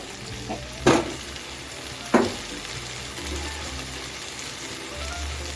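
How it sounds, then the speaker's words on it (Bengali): Masala and sour curd (yogurt) stir-frying in a pan, a steady close sizzle broken by two sharp scrapes of the spoon against the pan, with no voices. "এখন টক দইটাকে আমি যতক্ষণ টক দইয়ের কাঁচা ভাবটা কেটে না যাচ্ছে ততক্ষণ আমি কষিয়ে নিচ্ছি"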